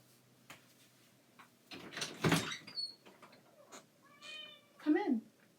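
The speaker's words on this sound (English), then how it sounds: "He's meowing." A cat meows a few times, one long drawn-out cry and a shorter one, amid faint rustling and light knocking nearby.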